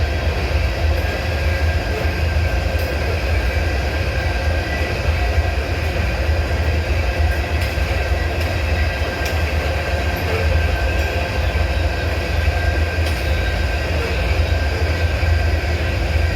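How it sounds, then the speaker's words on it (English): A freight train with a distributed power unit rolls past, a loud, steady rumble of wheels and cars that holds evenly throughout with no talk. "I got DPU coming by."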